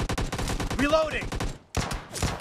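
Rapid bursts of gunfire in the PUBG Mobile Lite team match, a dense run of sharp repeated shots close up, broken by a brief silent gap before more shots resume, with game effects sweeping through the middle.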